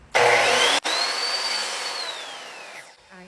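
A Ryobi miter saw cuts a frame miter joint, a loud steady whine running for about two seconds after a brief start, then winding down, close and alone.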